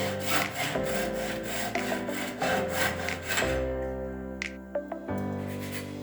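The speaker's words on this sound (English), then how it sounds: "Just taking a file, and I'm going to clean the inside edges." Round file rasping the inside edges of a plumbing pipe, a series of close, rhythmic back-and-forth strokes that give way to a few sparse scrapes and taps.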